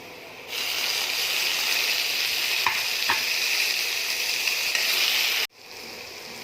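Tomatoes hit a pan of oil with fried onion, ginger and garlic, giving a loud continuous sizzle with a couple of sharp utensil clicks from stirring, then an abrupt stop.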